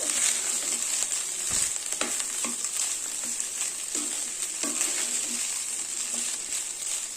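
Rice tossed with drumstick leaves in a pan, a steady close sizzle with soft scraping stirs and occasional light clicks of a spoon running throughout, no talking.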